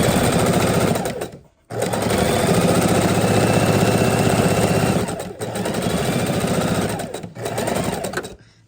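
A sewing machine stitches a quarter-inch quilt seam, a loud, close, rapid mechanical whirr in long continuous bursts broken by brief pauses where the stitching stops and restarts.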